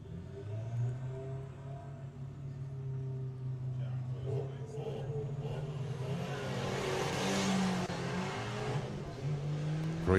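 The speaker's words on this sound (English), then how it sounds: "Green light drag race." Drag race cars launch at Santa Pod during Summer Nationals eliminations, a sustained engine roar that swells and grows louder toward the end, with a commentator's voice over it.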